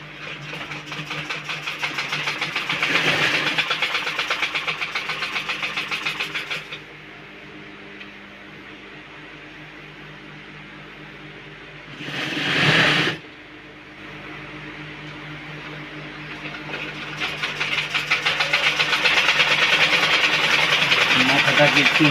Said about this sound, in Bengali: এই উপর দিয়ে সেলাই মেরে দিতে হবে।